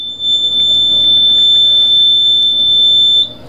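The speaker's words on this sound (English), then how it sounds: "You'll notice the system beeps for a couple of seconds" A boat's course mapping system emitting one continuous high electronic beep lasting about three seconds as the entry location locks, loud and steady before cutting off.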